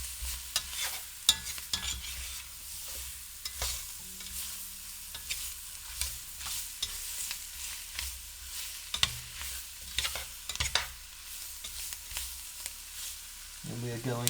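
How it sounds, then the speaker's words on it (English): Vegetables being stirred in a gumbo pot, with a soft background sizzle and repeated close scraping and clacking of a spoon against the pot, uneven in rhythm, with a brief voice toward the end. "So we're just going to mix all this through. Give those veggies a chance to soften a bit."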